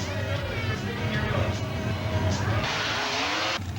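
Monster trucks drag racing at the Canfield Fairgrounds in Canfield, Ohio, in 1996, with a steady loud engine roar throughout, distant and crowd-washed, and a rising surge near the end.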